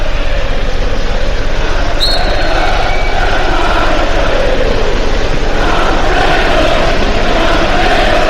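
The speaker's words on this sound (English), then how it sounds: "all the noise is Huddersfield noise inside the Cardiff City Stadium at the moment" Huddersfield Town fans fill Cardiff City Stadium with a steady, dense roar during a Cardiff City versus Huddersfield Town football match, a broad crowd wash that holds without a break throughout.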